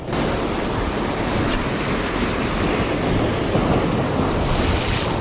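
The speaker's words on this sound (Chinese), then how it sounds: "你看这个浪，这个浪" Ocean waves surge onto the shore where someone is casting a lure for bass. The roar of the surf is loud and unbroken, thick with wind buffeting the microphone for the whole stretch.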